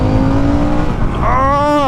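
A Harley-Davidson Sportster S motorcycle engine with stock exhaust idles with a steady low drone, then rises sharply into a loud rev with climbing harmonics near the end.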